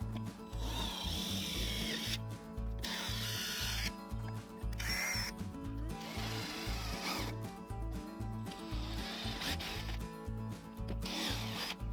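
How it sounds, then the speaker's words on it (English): An impact driver whirs loudly in repeated bursts with short pauses between, a close, buzzing mechanical drone with some rubbing and clicking, while removing threshold rivets in a camper trailer. "I just like the impact driver because of the quick insert and removal of the drill bits"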